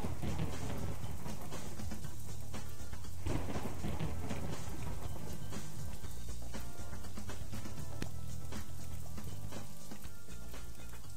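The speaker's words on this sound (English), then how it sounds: "Why is it raining again, huh?" Steady rain hisses through a stormy scene in the video game Boiling Point: Road to Hell, a dense continuous wash of broadband patter that holds at an even, fairly loud level from start to finish, with low rumbling ambience underneath.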